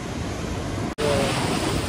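Continuous roar of ocean surf breaking on Devbag beach, a broad steady wash of noise with a brief dropout midway.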